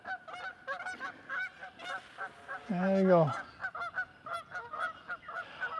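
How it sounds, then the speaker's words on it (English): Canada geese honk outdoors on a windy morning walk at a Michigan metropark, a repeated chorus of calls with one loud, drawn-out honk from a close bird in the middle, while a person briefly speaks. "Canadian geese."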